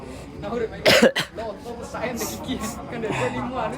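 A single sharp cough bursts out close by, followed by a quick throat-clearing, with indistinct chatter around it.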